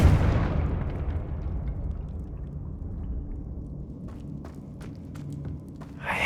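Confringo fire spell explosion in Hogwarts Legacy: a loud initial burst that decays into a long rumbling tail, followed by a few small sharp pops and clicks.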